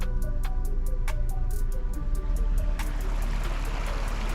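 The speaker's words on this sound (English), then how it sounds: "Flowing water." Water flows steadily at a river crossing in the Ozarks, a continuous rushing wash close to the microphone, with a vehicle's low rumble and a few faint rhythmic clicks underneath.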